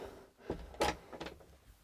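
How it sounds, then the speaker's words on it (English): A door on a Roller Team T-740 motorhome is pushed shut, a few soft scrapes followed by one firm latching thud and a faint rattle, close by with no talking. "Once you finish, you need to close up this door."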